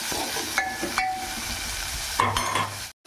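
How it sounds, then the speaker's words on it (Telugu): Tomato, onion and green chilli frying in a pan for a spicy egg fry, stirred with a few quick scraping strokes over a steady close sizzle. "టమాటా ముక్కలు, పచ్చిమిర్చి మొత్తం వేసుకుందాం. బాగా కలుపుకుందాం."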